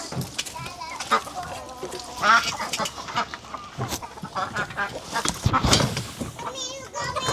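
Backyard chickens cluck and squawk close by in a muddy yard while children and adults talk and call out over them, the birds' bursts scattered and uneven through the scene.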